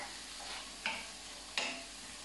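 Food fries in a pan with low-calorie Fry Light spray, giving a soft, steady sizzle with two brief scraping stirs standing out, close and without talk.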